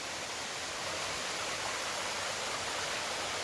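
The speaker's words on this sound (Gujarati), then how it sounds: "ચોમાસાની સિઝનમાં તમને આવા ઝરણા ચારેય બાજુ જોવા મળશે આ જટાશંકર વાળા રોડ ઉપર." A monsoon-season mountain stream of clear water runs beside the Jatashankar road at Girnar, a steady, close, full rushing hiss with no break and no voices.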